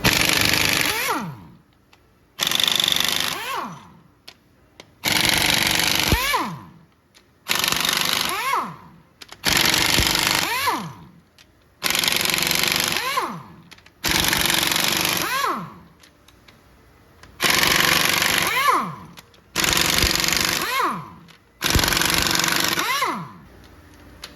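Rocker arm bolts on a 6.0 engine are loosened with a power tool, about ten loud bursts of roughly two seconds each, separated by short quiet gaps.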